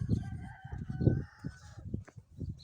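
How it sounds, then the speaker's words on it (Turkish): Chickens cluck and a rooster crows nearby, a busy run of short, choppy calls with no talking. "Bak bunlar tavuklar."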